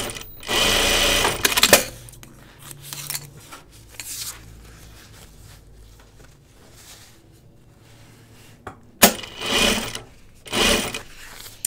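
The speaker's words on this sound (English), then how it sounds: "All right, so I'm just going to sew this one through." A sewing machine stitches a fabric notions case in close, loud bursts of rapid mechanical whirring, with quieter pauses and small handling noises between the runs.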